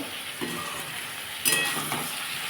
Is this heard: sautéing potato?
yes